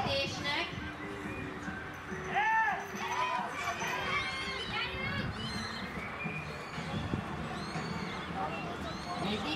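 At an international log-pulling competition outdoors, a horse drags a heavy log across grass, with hoof sounds and strained movement mixed into a busy crowd background and ongoing talk.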